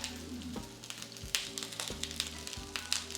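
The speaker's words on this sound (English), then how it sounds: "I've got these nice spears of asparagus here, and we're just gonna put these into the skillet." Asparagus spears sizzle in avocado oil in a skillet, a close, crackling fry broken by several sharp taps and clatters as the spears are set and moved in the pan; no one speaks.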